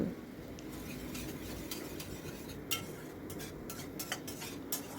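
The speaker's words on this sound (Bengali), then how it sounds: "এইভাবে মশলাটা ভালো করে কষিয়ে নেবেন" Spice paste being stirred and sautéed in a pan, soft continuous sizzle with scattered metallic scrapes and clinks of a utensil against the pan, fairly quiet and close.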